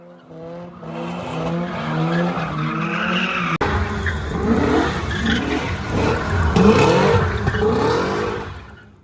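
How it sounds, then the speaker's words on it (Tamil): Cars drifting at a lakeside spot in Tbilisi, Georgia, send out long, loud tire squeals that rise and fall in sweeping arcs, mixed with engine revving at moderate distance. "இங்கே ஃபுல்லாக அந்த மாதிரி வண்டி ட்ரிஃப்ட் பண்ணிட்டு இருந்தாங்க"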